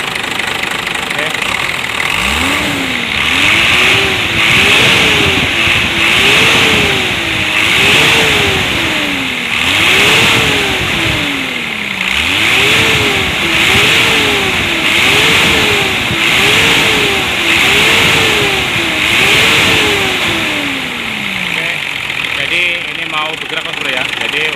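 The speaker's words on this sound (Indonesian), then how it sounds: "ini sudah kita hidupi untuk mobilnya, kita tes, kita gas ya" Hino Lohan 260 diesel truck engine being revved repeatedly, about a dozen rhythmic rises and falls in pitch over a steady loud rumble, close up.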